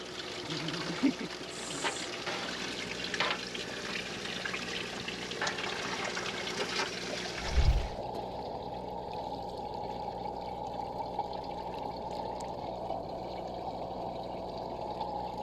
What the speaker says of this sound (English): And we wash it all onto the ground.